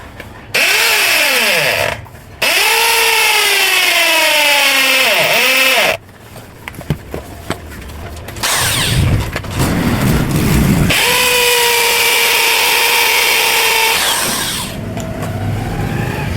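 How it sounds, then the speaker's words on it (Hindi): Electric drill fitted with a bit drilling out the rivet pins of a China-made washing machine motor, a loud whining motor that repeatedly revs up and bogs down under load, with brief pauses and grinding between passes. "मैं ड्रिल मशीन से इनको जो है ख़त्म कर दूंगा।"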